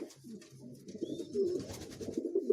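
Homing pigeons in a loft give close, low, throaty coos that swell and fall in overlapping rolls, with one bird's call rising louder toward the end.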